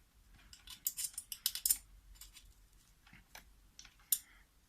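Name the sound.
tightening screws on RC car brake assembly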